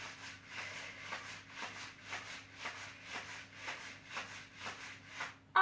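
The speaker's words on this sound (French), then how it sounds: "Allez, je frotte sur les côtés." Hands rub on the sides of the body during an indoor exercise session, making soft, rhythmic swishing strokes roughly every half second, faint and close with no talk over them.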